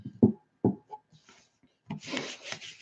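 Paper being rubbed by hand over a Gelli plate coated in pan pastels, giving a few short scuffing strokes near the start and then a longer, brighter rasping rub toward the end, close and fairly quiet.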